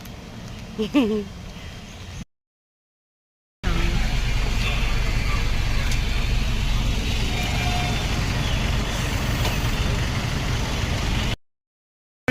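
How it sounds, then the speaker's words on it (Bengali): A bus rolls through rain, its engine and tyre hiss forming a steady broadband roar after a brief spoken moment, with short gaps of silence. "এই বাসটা থেকে, এই বাসে করেই আমি এলাম।"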